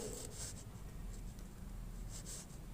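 Pen scratching across paper by hand while writing out a Sanskrit answer, a steady soft scraping with brief stroke bursts, close and quiet throughout.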